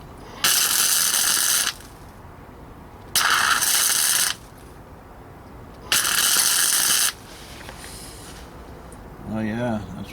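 Flux core welder laying beads on a 1969 Roadrunner rear panel after a polarity switch: three crackling, sizzling bursts of about a second each, separated by pauses, followed by a brief voice.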